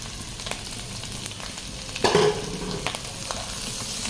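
Fish fries with sliced shallots and crushed pepper in a pan, giving a continuous close sizzle with light stirring scrapes and one brief louder clatter partway through.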